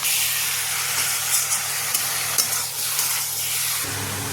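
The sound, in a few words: marinated chicken frying in a pan with onions and capsicum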